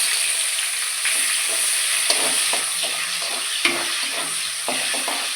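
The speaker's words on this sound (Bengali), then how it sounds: "তেজপাতা, জিরে, আর পেঁয়াজটা হালকা করে একটু ভেজে নেব।" Onion frying with bay leaf and cumin in hot oil, a steady close sizzle with scraping stir strokes and light clinks of a spoon against the pan.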